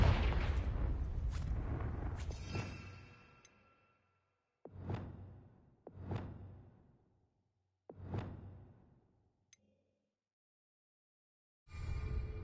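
Confringo fire spell blasts in Hogwarts Legacy: a long roaring explosion, then three separate whooshing fiery bursts spaced apart with booming tails, and a final blast at the end, no talking.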